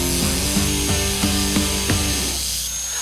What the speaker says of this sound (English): let's go with the grinder